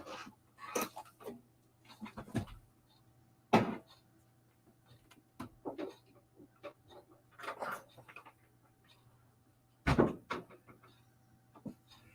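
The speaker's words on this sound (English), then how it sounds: "Let me close my door." A door being closed indoors, heard as a series of separate knocks, thumps and latch clicks spread out over several seconds, fairly close with quiet gaps between them.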